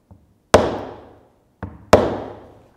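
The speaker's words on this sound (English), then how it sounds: "you have to watch out not to, hammer too strong" A hammer taps purfling into the edge of a stringed instrument's wooden body: two sharp strikes with ringing decays, plus a softer tap and a faint knock, close up.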